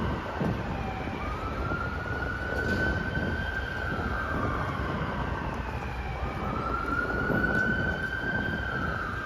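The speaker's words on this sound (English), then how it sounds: "It's an ambulance." Ambulance siren wailing along a New York City street on Broadway, rising and falling in long sweeps over steady traffic and city noise, moderately distant and continuous with no talking.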